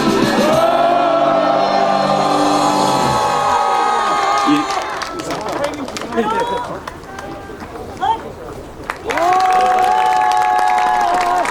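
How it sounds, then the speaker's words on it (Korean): A crowd at a subcontracted workers' rights declaration rally, held in the rain, lets out a loud, sustained cheer and shout, with whoops and calls swelling over the noise and an amplified voice speaking at points through it. "함성 한번 질러보도록 하겠습니다"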